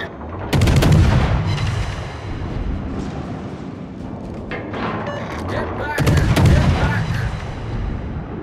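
Naval guns firing in the warship game World of Warships, two loud booming salvos with crackling tails and a busy battle din between them.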